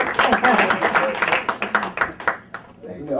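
A church congregation claps along in a steady rhythm at a Day of Atonement service, the claps loud and close, mixed with voices and singing, thinning out near the end.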